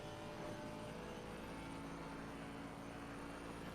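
A Mercedes-AMG GT4 race car's engine in a sim racing game, a steady, continuous drone of sustained engine noise at full speed down a straight, faint, with no talking.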